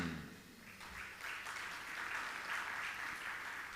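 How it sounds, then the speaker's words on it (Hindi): An audience at a Hindi spiritual discourse claps together in a steady, dense wash of applause that stays fairly even for a few seconds, heard at moderate distance. "तालियां तो बजा रहे हो"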